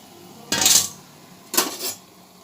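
Fried pomfret and boiled gathi go into a pot of boiling water for a fish curry: two short, close clattering bursts of utensil against the pot about a second apart, each with a splashy tail.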